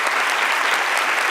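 A conference audience at Chrome Dev Summit claps in a dense, continuous burst of applause, loud and even from start to finish.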